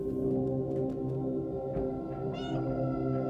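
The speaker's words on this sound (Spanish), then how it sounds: "he maullado 100 veces yo solito" A cat meows in the Stray video game, a drawn-out feline cry over a steady droning game soundtrack, moderately loud with no talking.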